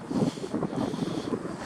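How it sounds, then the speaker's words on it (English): Wind blowing across the top of Cahokia's earthen mound, buffeting the microphone with a steady, loud rumbling roar and no voices. "A little windy on top."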